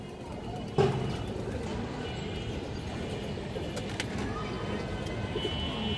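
Bagha pigeons coo softly amid a steady background hum, with a brief knock near the start and faint voices around them.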